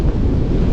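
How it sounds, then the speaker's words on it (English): Strong headwind buffeting a microphone during bicycle touring on open farm roads, a loud, steady low roar with constant gusty rumble throughout the short stretch. "So windy."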